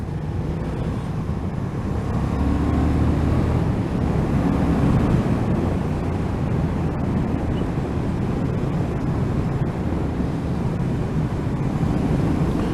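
Heavy wind blast roaring over an open-cockpit vehicle while driving, a loud, constant broadband rush with no breaks, no talk heard.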